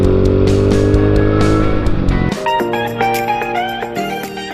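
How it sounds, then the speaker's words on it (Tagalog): A 2013 Yamaha Mio Sporty scooter engine and exhaust run loud and close, with a deep steady drone that suddenly drops to a lighter, higher idling note with irregular pops. "Maganda yung exhaust niya."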